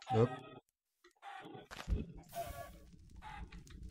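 Chickens clucking in the Minecraft video game, a few short clucks from nearby game birds mixed with other game sounds, with someone talking over and between them.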